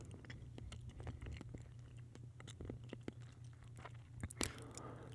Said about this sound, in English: If I'm chewing gum while talking or not.